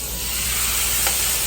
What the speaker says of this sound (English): so I'm just going to place my roast. I'm going to place my roast on the seasoned side down, and we are just going to brown it on all sides.